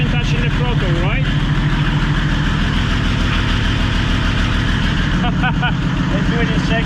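A Nissan 200SX S14 race car fitted with an OM606 turbodiesel engine runs with the throttle untouched, a steady, loud, rough low-pitched diesel chugging that continues unbroken while a person talks over it.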